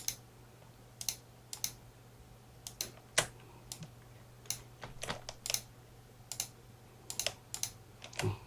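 Someone types and clicks on a computer keyboard, pressing the Ctrl key while selecting items, in an irregular run of light close taps over a faint steady hum.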